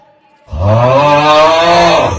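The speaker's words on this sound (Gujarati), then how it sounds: "આ બે ભેંસો છે" A buffalo on a farm lets out one loud, drawn-out moo from close by. It begins after a brief quiet and holds steady to the end.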